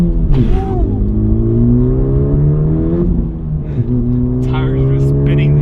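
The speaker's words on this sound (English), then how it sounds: "Tires just spinning there." A 2018 Honda Civic Type R under hard power with tires spinning, a loud steady engine drone with strong harmonic tones that dips briefly and picks back up, close and continuous with no voices.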